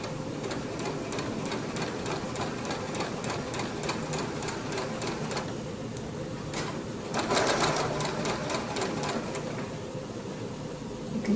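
A sewing machine stitches quilt binding with a blanket stitch, running in a steady close mechanical whir with a regular ticking rhythm that briefly changes and quickens partway through, with no talking.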